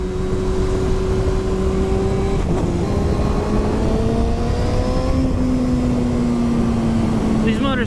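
A 2020 Kawasaki Ninja 636 sport bike accelerates hard from around 5,000 RPM as the throttle is twisted, its engine tone rising steadily and shifting through the gears over loud wind noise.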